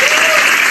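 An audience breaks into dense, steady applause at a Benin youth talent-competition quarter-final, a continuous wash of clapping that fills the whole moment.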